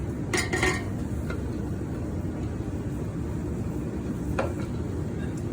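A spoon scrapes dairy sour cream out of a container, making a few sharp, close metallic clinks and scrapes over a steady background hum, with a couple more light taps later.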